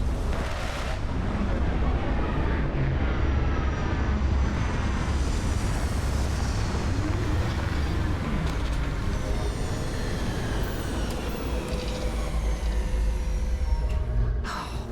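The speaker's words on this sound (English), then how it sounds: "Landing struts primed. Retros firing." A spaceship in the Starfield video game comes in to land with its retro thrusters firing, making a loud, continuous roaring rumble that holds for the whole stretch with no breaks.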